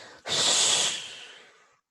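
A single long, forceful exhale of breath during a breathing exercise starts abruptly, holds strong and close, then tapers off slowly over more than a second.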